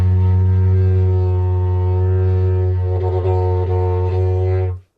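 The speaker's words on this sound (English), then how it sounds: "playing her didgeridoo" A didgeridoo drones steadily with a deep, buzzing fundamental and rich overtones, its timbre shifting in wobbling pulses near the end before it stops abruptly.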